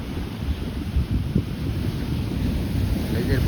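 Strong wind gusts across a seashore with big waves, roaring and buffeting the microphone in a dense, steady rumble with brief louder bursts and no clear voices.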